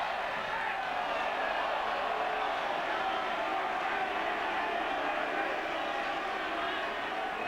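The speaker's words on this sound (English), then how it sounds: "A few boos from the crowd." Crowd noise at a 2003 Rugby World Cup match between Uruguay and South Africa, a steady broad roar with scattered boos running throughout at moderate distance, no clear voices standing out.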